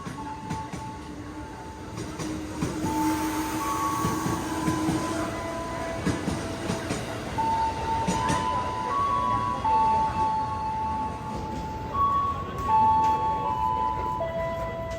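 A 12-car commuter train bound for Bogor at a Jakarta station rumbles and clatters steadily for the whole stretch, with wheel squeals and a station announcement voice over the loud, close noise.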